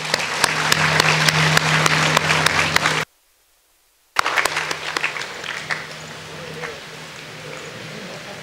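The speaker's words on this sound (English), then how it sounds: "Let's all give them a big round of applause." Crowd of students at a freshers' day formal programme claps in a loud, dense round of applause, cut off by a second of silence before the clapping resumes and gradually thins out.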